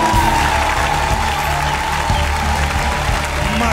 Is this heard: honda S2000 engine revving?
no